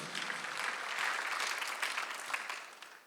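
A church congregation applauds through a Sunday worship service, a dense, steady wash of clapping from many hands that holds at a loud level and eases off slightly toward the end.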